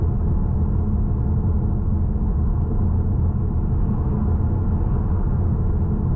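Ford Mustang Bullitt V8 engine heard from inside the cabin, a steady low rumble with a faint uneven stutter running continuously throughout.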